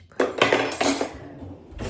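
Dishes clatter as they are stacked away in a home kitchen, a few sharp clinks and knocks of crockery and cutlery in quick succession, close and fairly loud, with no talking.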